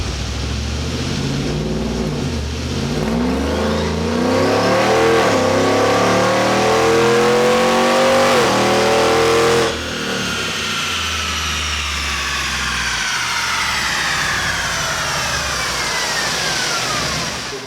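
A GMC Sierra 1500 pickup with an Edelbrock 2650 supercharger, engine revving hard through climbing and dropping sweeps with supercharger whine, then a sharp drop and a long falling whine as revs settle, loud and close.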